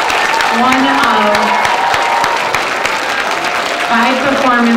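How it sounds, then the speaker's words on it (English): Loud, close applause fills a school hall after a fourth-grade Annie Jr musical, a dense wash of clapping and cheering with a voice faintly mixed in beneath it. "Huge round of applause to Ms. Cantalone."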